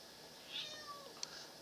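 A cat meows faintly in the background of a room while a chess game plays on, giving a drawn-out, thin cry followed by a short chirp.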